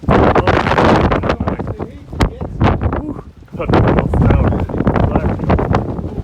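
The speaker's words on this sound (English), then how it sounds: "we are in the clouds, wind ripping all around us" Strong wind on a cloud-covered mountain summit along a backpacking trail, roaring and buffeting against the microphone in loud gusts, with a person talking over it throughout.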